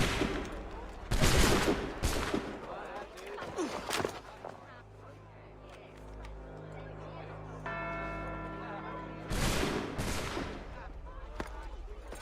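A gunfire volley in Assassin's Creed III, a burst of loud, booming shots fired together, followed by rumbling game ambience, a held tone, and a second loud crack near the end.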